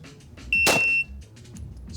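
A shot timer emits a single sharp electronic beep of about half a second at a shooting range, loud and clear against a quiet background.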